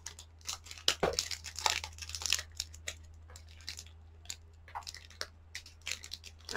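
Crinkly plastic wrapper of a Pokemon card booster pack being torn open, a rapid run of sharp crackling and tearing bursts, close and fairly loud, heard on its own.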